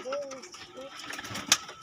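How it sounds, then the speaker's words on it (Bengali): Pigeons on a pigeon farm, cargo-type birds, give a few soft coos near the start amid faint background bustle, with a brief sharp sound near the end. "এটা মালবাহী কবুতর আছে"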